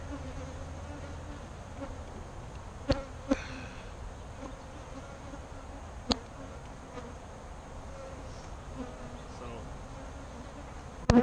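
Saskatraz honey bees agitated at their hive, a continuous dense buzzing hum close by with a few sharp clicks over it; no speech.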